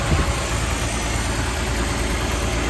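A 1961 Ford Falcon Futura engine idles steadily up close, a smooth continuous mechanical hum with no voices.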